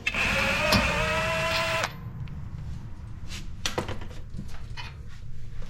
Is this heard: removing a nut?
yes